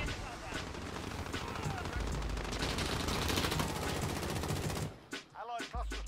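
Rapid automatic gunfire from a shooter video game rattles loud and continuous for about five seconds, then breaks off into a few scattered bursts, with a voice talking over the shooting.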